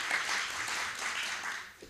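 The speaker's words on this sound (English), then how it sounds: "I think that's worth a round of applause." Conference audience applauding a newly built venue at a college conference centre, a steady wash of many hands clapping at moderate distance, sustained evenly for the whole stretch and tapering slightly at the end.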